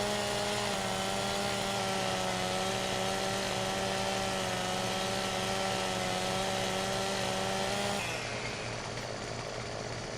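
In the video game Farming Simulator 17, on the Estancia Lapacho map, a chainsaw cuts limbs off a tree trunk. A loud, steady engine drone holds for about eight seconds, then drops off into a duller rumble.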